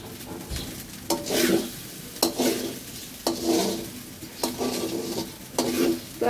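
Peas and rice stirred in a frying pan for fried rice, regular scraping strokes with a clank roughly every second over a low sizzle, close up with no speech.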